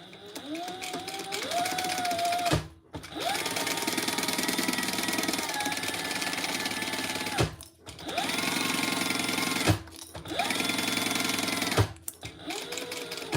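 A sewing machine stitches the lining seam of a cute bag at full seam allowance, running in several sustained whirring bursts separated by short pauses, close and steady.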